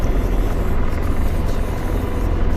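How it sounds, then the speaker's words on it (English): An Mi-8 helicopter flies in a video game, with a loud, steady rotor drone and deep engine rumble throughout. "there is an Mi-8 that's leaving Fastburg right now"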